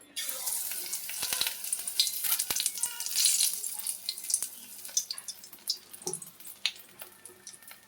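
Prawns fry in hot oil in a kadai, with an uneven crackling sizzle, sharp pops and splatters rising and falling close by, alone without talk.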